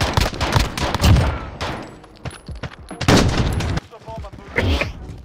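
Rapid Uzi submachine gun bursts from a Call of Duty match, loud and close, firing in several quick volleys with brief gaps between them, while a player talks over the gunfire.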